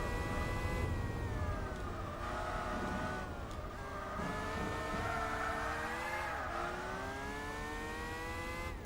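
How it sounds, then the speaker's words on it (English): A Pescarolo race car in Gran Turismo 4, a steady loud engine whine that rises and falls through gear changes, with a brief tire squeal, no talking. "there goes the Pescarolo"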